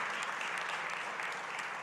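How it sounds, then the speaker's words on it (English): A crowd claps at a USDA Ag Day event, a brief burst of steady, moderately loud applause from the audience. "I think that deserves a big round of applause"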